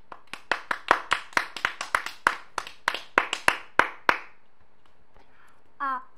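A single person's hands clap for the winning guild, about twenty sharp claps at an uneven, fairly quick rhythm, close and loud. They stop after about four seconds, leaving quiet with a brief voice near the end.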